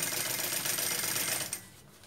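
A sewing machine stitching a bag runs in a fast continuous whirring rattle for about one and a half seconds, then stops abruptly.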